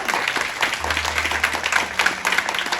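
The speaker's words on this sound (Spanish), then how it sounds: "Él es ofrenda de palmas fuerte al Señor." A church congregation claps loudly and continuously, a dense wash of hands filling the room from start to end.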